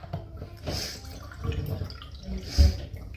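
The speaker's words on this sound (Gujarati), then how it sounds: "આ પાણી ભરીશું ગ્લાસમાં." UK tap water splashes and trickles into a glass in short bursts, close by, with a few faint clinks and no talking.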